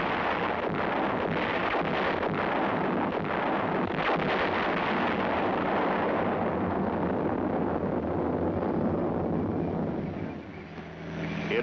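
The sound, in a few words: U.S. Army field artillery firing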